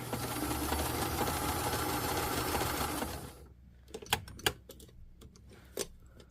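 An electric sewing machine stitches leather piping onto a winter puffer coat in a steady fast whirring run for about three seconds, then stops, leaving a few scattered clicks and knocks.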